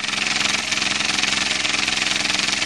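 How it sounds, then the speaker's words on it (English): An S.E.L. Standard toy steam engine runs on live steam, with loud, rapid, even chuffing and mechanical clatter that holds a steady rhythm throughout. "it's the steam coming out the back ports there, and it's running like a dream"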